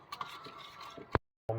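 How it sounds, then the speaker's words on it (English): A spoon stirs lasagna sauce with milk in a pot, giving soft, quiet scraping and swishing strokes that pause briefly before resuming. "Just keep stirring it well and mixing it well."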